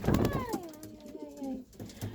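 Racing pigeons coo in a loft, a soft rolling call close by with a voice talking under it.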